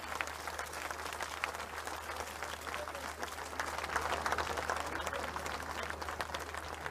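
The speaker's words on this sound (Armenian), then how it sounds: "ես ուզում եմ որ մենք բոլորս ծափահարենք" An audience applauds steadily at a political talk, broad clapping from many hands sustained throughout, swelling slightly in the second half, with a low steady hum underneath.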